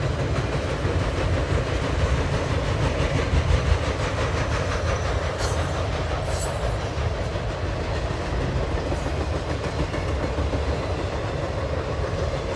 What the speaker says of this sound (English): But this whole train looks like it's just military's